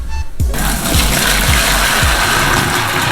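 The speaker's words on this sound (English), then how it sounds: "we're just gonna dump it into the strainer" Boiled spaghetti and its water are dumped into a strainer, starting with a sudden loud gushing splash that settles into a steady pouring rush of water draining close by.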